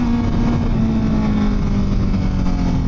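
Motorcycle engine pulling hard under throttle, a loud, steady droning roar with a strong low hum, close to the microphone for the full stretch, no voices.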